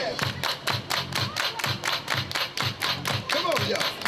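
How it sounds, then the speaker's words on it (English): A crowd at an outdoor public housing backyard gathering claps in a steady rhythm, with loud evenly spaced claps and chanting voices over them. "Everybody clap your hands."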